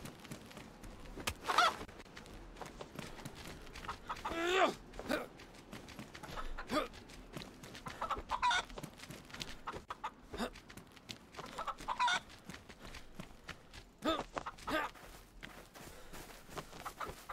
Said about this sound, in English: Shoot the chicken.